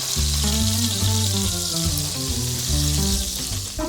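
Pieces of beef for stew browning in oil in a pot on a stovetop, giving a steady, close, fairly loud sizzle that runs through the whole stretch.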